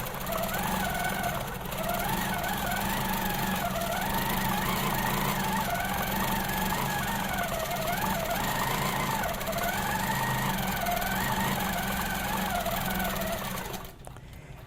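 A longarm quilting machine stitches loops at 12 stitches per inch in cruise mode, its motor humming steadily with a rhythmic, cycling whir that rises and falls before cutting off near the end.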